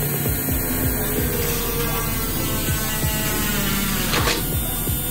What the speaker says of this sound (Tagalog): Try natin kung magpe-penetrate itong drill bit, no?